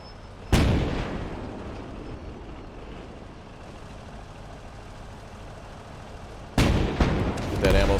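Artillery fire in the World War II game Gates of Hell: two heavy booming blasts several seconds apart, each with a long rumbling decay, the second landing as a direct hit on an anti-tank gun.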